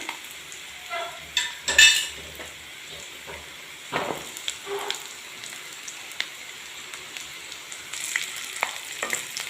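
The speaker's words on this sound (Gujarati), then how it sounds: "મરચાંને થોડા ભેગા શેકી લેશું આપણે" Green chilies and onions fry in a pan for shahi paneer, a soft continuous sizzle broken by stirring scrapes and a few sharp clinks of utensil against metal.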